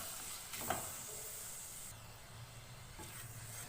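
Spices and tomatoes stirred together in a cooking pot, a quiet steady hiss and sizzle with a few soft scrapes from the spoon, close and low in level, with no talking.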